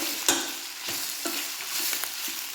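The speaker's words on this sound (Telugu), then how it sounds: "ఈ టమాటో అనేది మొత్తం సాఫ్ట్ అవ్వాలండి సాఫ్ట్ అయ్యేంత వరకు వేయించుకోవాలన్నమాట" Tomatoes fry in a pan until soft, giving a continuous close sizzle broken by several sharp scrapes and taps of a stirring spoon against the pan.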